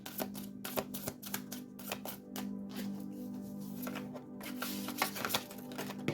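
Rapid clattering and clicking of small rune stones being shuffled together, quiet and close, with irregular bursts over a low steady hum.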